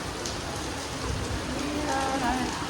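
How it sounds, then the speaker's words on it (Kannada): Steady rain pours down, a constant close hiss of drops hitting surfaces with no break and no talk. "ಎಷ್ಟು ಚೆನ್ನಾಗಿ ಮಳೆ ಬರ್ತಾಯಿದೆ"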